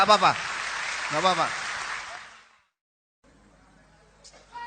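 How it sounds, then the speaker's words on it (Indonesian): An audience at a religious gathering claps in a short burst of applause that fades into silence, with a voice speaking over the start. "Tepuk tangan, nggak apa-apa."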